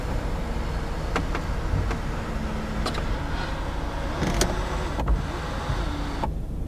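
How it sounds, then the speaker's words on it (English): An electric car sunroof motor whirs in a steady drone for several seconds, with a few clicks and knocks from the mechanism and a faint buzzing hum underneath, close and fairly quiet. "Oh my god, it's electric."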